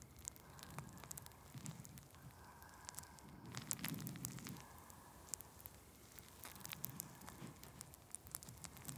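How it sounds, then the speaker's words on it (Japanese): Carbonated soda fizzes with a soft, steady crackle of tiny pops, faint and close, with no talking over it. "炭酸のパチパチって音と感触が"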